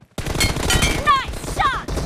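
Gunfire from a team shooting video game crackles in dense bursts throughout, mixed with game effects and sweeping electronic tones, loud and close.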